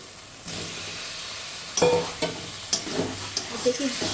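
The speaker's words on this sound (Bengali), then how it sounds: "আলুগুলো দিয়ে এবারে ভালো করে নেড়ে চেড়ে কষিয়ে নেব" Boiled potatoes stirred and fried in a cooked spice masala for mutton-fat aloo dum: a steady close sizzle, with a spoon scraping and knocking against the pan in several separate strokes.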